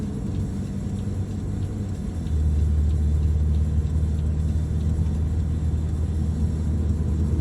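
Car accelerating hard along a long highway merge lane, steady road and engine rumble that swells and deepens partway through as the speed climbs, loud and continuous with no voices.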